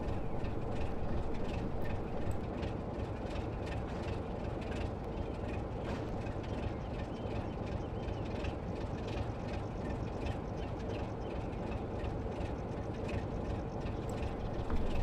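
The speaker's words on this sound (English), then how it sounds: "we're just going to back the locomotive up now to the refueling point down there" A BR Class 33 diesel locomotive on the West Somerset Railway in the Train Sim World game hums and rumbles steadily as it moves, a continuous mid-level engine drone with faint clanks and no talk.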